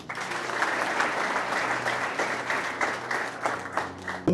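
A church congregation claps together in praise, a dense, steady roll of applause lasting several seconds with a faint voice beneath it.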